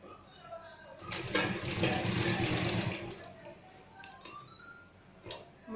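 A sewing machine stitches a sleeve in a steady rapid run lasting a couple of seconds, then slows and stops, with quieter handling clicks afterward; no one speaks over it.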